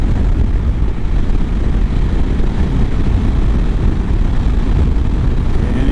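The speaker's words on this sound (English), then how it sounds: "that's a cool breeze blowing right there" Wind roars and buffets steadily against the microphone while riding a 2022 KLR650 and a Royal Enfield Himalayan in a cool breeze, making a loud, continuous low rumble with no pauses.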